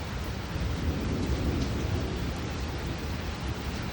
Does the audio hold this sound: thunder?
yes